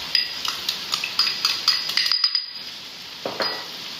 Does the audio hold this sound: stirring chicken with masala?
yes